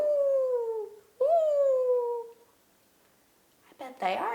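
A voice imitates wolves howling during a children's zoo story, two long wavering howls with rising and falling pitch, then a short break and a brief higher vocal cry near the end.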